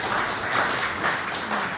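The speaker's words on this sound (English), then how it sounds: "I'd like to ask for a big round of applause for our wonderful panelists" Brief burst of audience applause for panelists at the close of a battery metals roundtable at a 2018 mining conference, an even wash of clapping at moderate volume.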